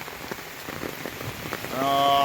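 A heavy, continuous downpour that has lasted about an hour falls outdoors in flooding countryside, a dense steady hiss of rain on surfaces, with a tonal sound rising near the end.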